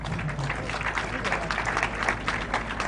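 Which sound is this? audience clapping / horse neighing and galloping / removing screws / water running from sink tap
audience clapping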